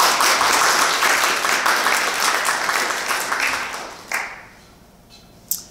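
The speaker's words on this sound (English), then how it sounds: "So maybe we can give them a round of applause for all of them." An academic thesis competition audience applauds the judges, a dense round of clapping that fades out over several seconds, followed by a couple of isolated claps.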